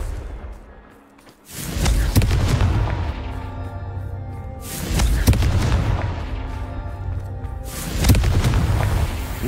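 Three heavy Confringo explosive spell blasts in Hogwarts Legacy, spaced a few seconds apart, each a loud booming impact followed by a rolling, rumbling tail.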